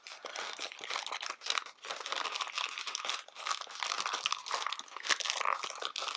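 Paper planner inspiration cards are pulled out of their packaging, giving a continuous close, crisp crinkling and rustling of paper with small crunches throughout, fairly loud and with no talking.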